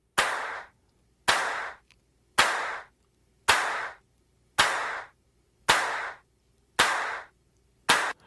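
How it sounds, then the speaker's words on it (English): Layered handclaps from a studio multitrack land as nine crisp, evenly spaced claps about once per second, each loud and close, with near silence between them. "Layered claps."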